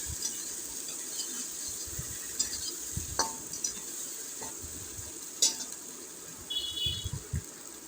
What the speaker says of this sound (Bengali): মশলাটা আর মাছটা পাঁচ থেকে দশ সেকেন্ড মতো আমি একটু নাড়াচাড়া দিয়ে নিচ্ছি